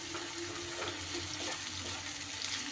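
Sliced onions fry in hot oil until crisp, a steady dense sizzle with faint stirring scrapes, constant and close, with no voices.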